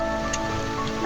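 Steady rain patters on a surface in an even, continuous hiss with faint tonal hum beneath, no talking.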